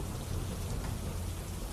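Steady, even rain hiss from a heavy monsoon downpour in Jafrabad, Amreli, Gujarat, fairly quiet and continuous with no voices.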